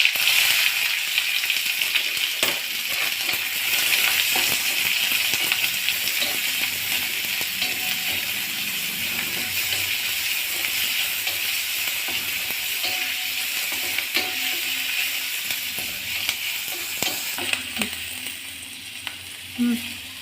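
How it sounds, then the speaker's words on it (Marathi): Mustard seeds spluttering and crackling in hot oil on a home stove, followed by chopped onion frying; a steady, close sizzle runs throughout with scattered sharp pops. "तेल गरम करते झालेलं आहे त्याच्यामध्ये मी आता मोहरी घालणार आहे मोहरी तळतळली चांगली तळतळली की त्याच्यामध्ये कांदा घालणार आहे"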